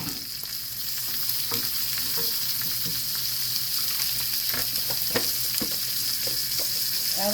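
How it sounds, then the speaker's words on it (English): Butter added to hot oil in a frying pan while cooking a loaded breakfast baked potato, giving a steady bright sizzle with scattered crackles and pops, near and continuous, with no talking. "I'm gonna add a little butter."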